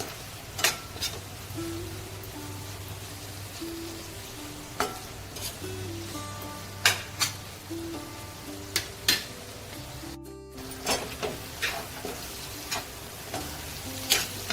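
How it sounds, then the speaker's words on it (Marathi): Dried bombil (Bombay duck) sautéing in a pan with tempering, a soft continuous sizzle punctuated by regular clicks and scrapes of a spoon stirring against the pan. "चांगलं परतवून घ्यायचं."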